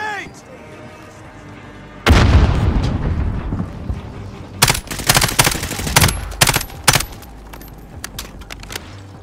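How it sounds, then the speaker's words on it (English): A loud, close blast from a grenade in a video game, then a flurry of sharp gunfire bursts and booms that gradually thin out. "Throwing grenades."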